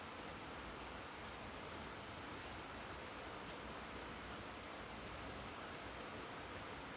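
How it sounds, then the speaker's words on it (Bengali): Dal bora fritters fry in hot oil over a medium flame, a dense even sizzle that crackles steadily and continuously without pause, fairly faint and close. "তেলটা ভালোভাবে গরম করে নিয়ে মিডিয়াম ফ্লেমে দিয়ে তারপর কিন্তু এইভাবে বড়াগুলো"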